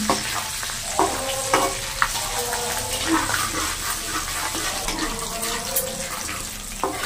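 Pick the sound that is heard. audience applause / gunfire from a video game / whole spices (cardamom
whole spices (cardamom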